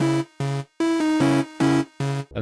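Serum-preset synth chords for a jerk-style beat sound as six short, evenly spaced sustained stabs in a choppy rhythm. The stabs are clear and alone, with no talk.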